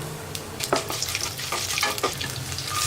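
Mustard seeds, chana dal, urad dal and garlic fry in hot oil for a carrot beans poriyal, giving a steady close sizzle with scattered crackles and pops, alone without any voice.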